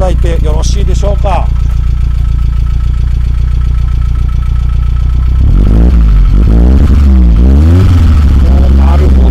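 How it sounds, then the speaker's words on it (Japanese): A Nissan Skyline RS-X intercooler turbo engine idles with a deep, throaty exhaust, then revs up in several sharp blips; a person talks over the start. "ターボらしいね、若干こうのぶとい感じの、ね、排気音が非常にいい感じだというふうに思います"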